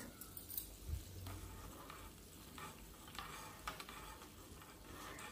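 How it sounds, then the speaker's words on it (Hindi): Soft scraping and clinking of a spoon stirring a dhokla mixture with salt in a pan, with faint sizzling beneath, quiet and close. "नमक डालने के बाद इन सभी को अच्छे से चम्मच से मिक्स कर लेंगे"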